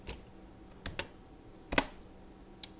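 A few sparse keystrokes on a computer keyboard while entering AutoCAD shortcuts, isolated clicks and a short double tap over a quiet room hum, close and soft.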